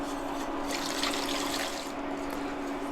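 Water pours steadily into a bowl of salt, cornstarch, sugar and lemon juice for a lemon tart filling, a continuous close splashing stream with no talking.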